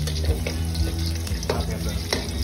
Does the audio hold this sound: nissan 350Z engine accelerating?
no